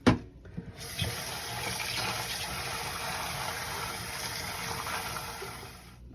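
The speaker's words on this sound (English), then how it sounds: "We keep washing until the water is clear." Molokhia leaves are washed under a running tap, a steady close rush of water into a sink with faint handling splashes, starting abruptly after a short quiet moment.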